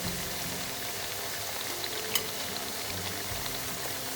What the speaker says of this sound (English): We're going to fry this until they turn golden brown, like slightly golden, not even brown.